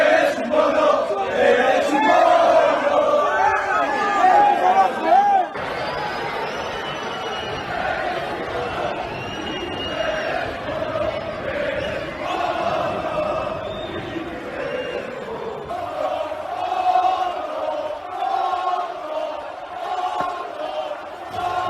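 Valencia football supporters in their stadium, a large crowd chanting and roaring in waves, with surges of shouting and a distant, reverberant mass of voices throughout.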